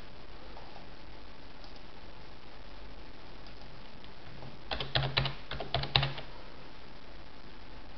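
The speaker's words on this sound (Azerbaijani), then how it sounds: "Burada ben yazıram username" Fingers type a username on a computer keyboard in a short burst of quick, close clicking keystrokes lasting about a second and a half, with quiet room noise before and after.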